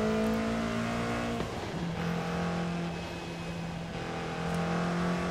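Ford Bronco in Forza Horizon 5 driving on mountain roads, its engine droning steadily with a pitch drop and shift midway, loud and continuous with no talk.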